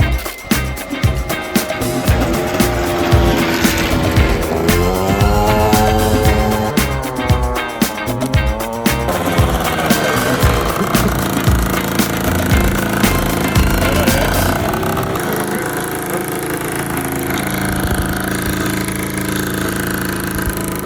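A Yamaha Jog RR moped engine revs and runs on a test ride, a loud buzzing two-stroke drone rising and falling in pitch with throttle changes, then settling into a steadier tone, close up.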